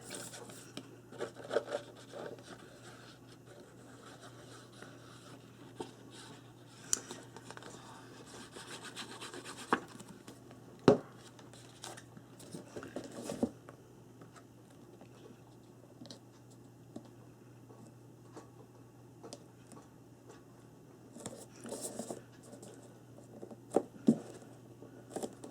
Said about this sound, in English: Wipe off any glue and burnish it so that the corners stick really good.